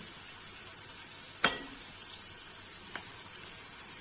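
Onion and carrot sauté in a pan, giving a faint, soft sizzle with a few sharp clicks and light knocks of utensils, all behind a steady high-pitched background whine.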